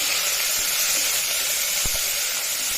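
Coconut masala paste roasts in oil for mutton rassa, giving a steady bright sizzle with a few soft stirring knocks, close and continuous with no talk.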